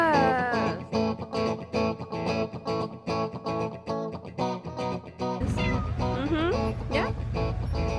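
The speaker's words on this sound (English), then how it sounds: "Yes, hello cat." A cat meows repeatedly in close, rhythmic, drawn-out cries, then more sustained wavering calls come over a low background hum. No one speaks over it.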